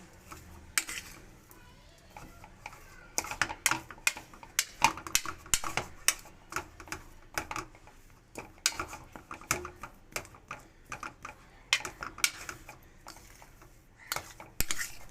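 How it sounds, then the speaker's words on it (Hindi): Potato kabab ingredients being mixed in a bowl, a busy run of close clinking and scraping of a utensil against the bowl in quick irregular bursts, with no talking. "अच्छे तरीके से इसको मिक्स कर लें जितने भी इंग्रेडिएंट्स हैं।"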